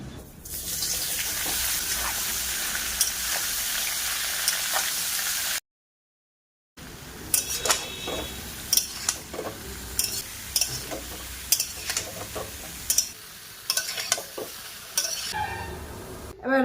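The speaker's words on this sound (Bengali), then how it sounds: "এবার তেল দিয়ে হেঁচড়টাকে ভেজে নেব।" Boiled hechra, young jackfruit pieces, frying in oil in a home kitchen, with a steady hiss for several seconds, a short break, then sizzling broken by stirring scrapes and clatters, close and moderately loud with no talking.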